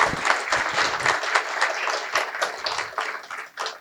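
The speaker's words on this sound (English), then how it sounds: "a big round of applause" Audience applause after a speech, a lively wash of many hands clapping in a hall, fairly steady with slight ebbs and a renewed burst toward the end.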